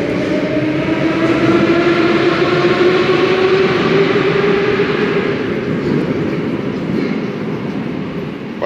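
A Moscow Metro train rumbles steadily at close range, with a rising whine as it gathers speed and a constant roar throughout.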